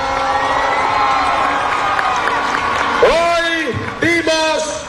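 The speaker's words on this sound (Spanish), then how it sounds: "Un aplauso para ella." A political rally crowd applauds and cheers loudly, a dense wash of voices and shouts with whoops and clapping, and someone shouts over the noise toward the end.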